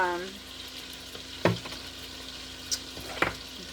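Garlic sautéing in melted beef tallow in an Instant Pot, with a soft, steady sizzle and a few sharp stirring clinks breaking through near the end.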